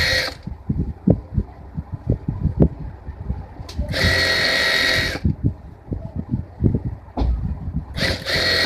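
A sewing machine stitches the waist seam of a six-panel petticoat, with a close, rhythmic clatter of stitches broken by a couple of brief, louder whirring bursts.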